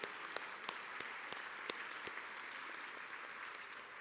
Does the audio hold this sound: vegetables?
no